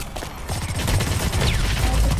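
Rapid automatic gunfire in the online shooter Blacklight Retribution, a dense run of close, loud shots that keeps up through the whole stretch with no voice over it.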